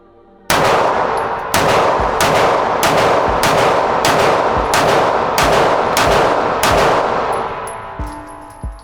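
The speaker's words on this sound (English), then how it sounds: "But let's run some rounds and see what it's really like." Pistol shots from a SIG P365 fitted with an aftermarket grip module, eight loud sharp reports fired at a steady pace about one second apart, each ringing out with echo.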